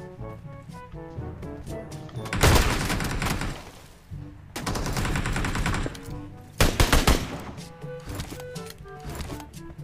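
Automatic gunfire in PUBG Mobile, three loud rapid bursts of machine-gun fire separated by quieter game ambience.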